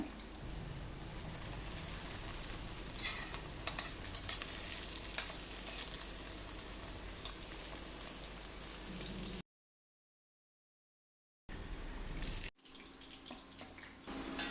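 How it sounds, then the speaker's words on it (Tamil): Egg evening snack deep-frying in hot oil, a steady close sizzle and bubbling crackle running throughout, cut by a short silent gap before the frying resumes. "எண்ணெயில் பொரித்து எடுத்துடணும்."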